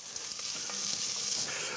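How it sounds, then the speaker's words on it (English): Bacon fries in a pan, a dense steady crackling sizzle with faint scraping from a utensil, heard close and alone. "all this is sizzling away in here. I'm just breaking the bacon up so that it can fry."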